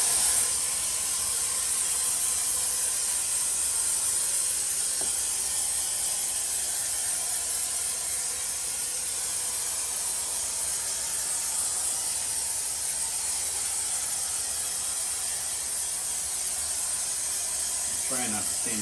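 A texture sprayer puts orange peel texture onto a wall. A steady hiss of spray runs continuously at moderate level, with a couple of faint clicks.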